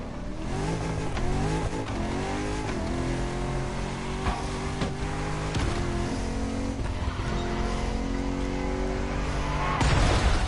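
Car engine in the racing video game The Crew Motorfest, revving and shifting through rising gears with tire squeal, loud and continuous, a fresh surge of acceleration near the end.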